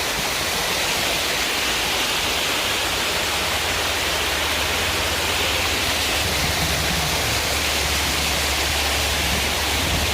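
Little Dunn's River waterfall in Ocho Rios pours in a continuous, dense roar of falling water, loud and close and steady throughout, with no voices.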